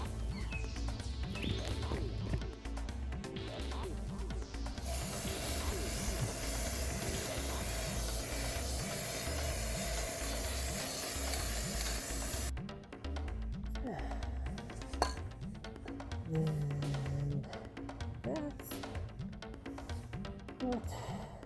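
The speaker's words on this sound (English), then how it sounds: "That's what the wind, slight little breeze does." Wind from a slight outdoor breeze buffets a microphone, a loud, steady broadband rush with gusty swells running through the whole stretch, no speech.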